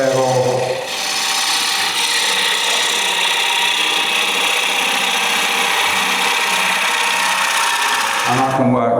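A gouge makes a push cut on spinning wood on a lathe during a wood turning seminar, producing a loud, continuous hissing scrape that holds steady for about eight seconds before easing off.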